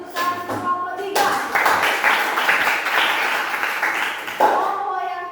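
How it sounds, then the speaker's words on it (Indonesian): Classroom applause for a student group, a steady burst of clapping from many hands lasting a few seconds, with a speaking voice before it and another voice resuming as the clapping fades. "Yuk, tepuk tangan kelompok 3."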